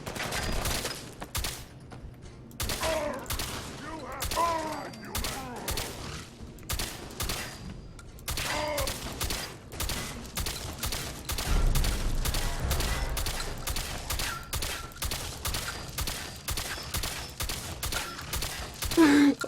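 Rapid bursts of gunfire from a weapon in the video game Fallout 4 crack out in quick repeated volleys over the whole stretch, with brief pauses between shots and a player gasping and murmuring in between.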